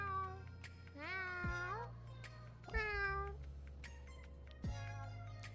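A street cat in Boyfriend Dungeon meows three times, each call clear, close and rising then falling in pitch, spread across the stretch over a low steady background drone.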